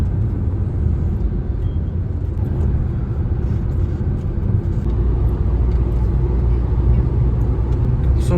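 Steady, loud road rumble from a car cruising a highway bypass at Raiganj on a rainy road trip toward Darjeeling, with a continuous low engine and tyre drone and no talk.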